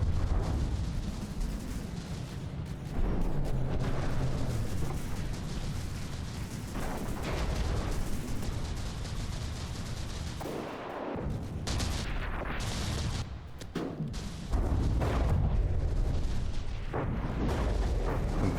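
Battleship turret guns firing during a naval battle in the game From the Depths, heavy booming shots and rumbling blasts repeating irregularly amid a continuous low din, with no speech.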